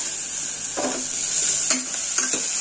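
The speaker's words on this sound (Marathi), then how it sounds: "लसूण आणि वाटलेलं जिरं हे पण फोडणीला टाकून घ्यायचं, छान परतवून घ्यायचं तेलावरती आपल्याला हे" Garlic and ground cumin sauté in oil in a very hot steel pot just taken off the gas for a kadhi tempering, a bright steady hiss with a few quick stirring scrapes, close and alone.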